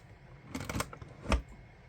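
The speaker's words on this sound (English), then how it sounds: "that is how you punch it. Push toward the machine" A Cinch binding machine punches holes in notebook paper, giving a quick cluster of sharp mechanical clacks and then one louder, heavier thunk a moment later, close up with no talking.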